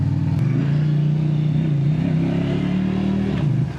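An SRV AMT 250 automatic motorcycle revving close by, its mid-pitched engine note rising and holding loud and steady before easing off at the end.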